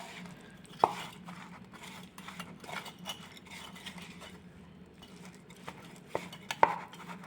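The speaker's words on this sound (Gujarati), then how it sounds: "હવે આપણે બધું જ આપણે મિક્સ કરી દઈશું" Spoon scrapes and taps against a bowl as batter for Maharashtrian kothimbir vadi, made with coriander, flour and lemon juice, is stirred together, with soft rhythmic mixing and a couple of sharper clinks, close and quiet.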